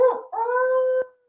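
A person imitates a wolf howl with the voice in a werewolf magic workshop at a festival: a short wavering yip, then one sustained steady howl that cuts off abruptly, close and loud.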